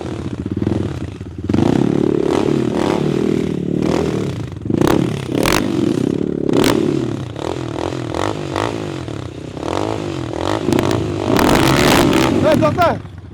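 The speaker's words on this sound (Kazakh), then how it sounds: "қазіргі жарысатын мотоциклдің екеуінде двигателі бірдей 250 кубты цепной мотор" Two motorcycles with identical 250cc chain-drive engines, one on wheels and one on tracks, race on snow. Engines rev and drone loudly up close, with clattering and scraping bursts, while people talk and shout over them.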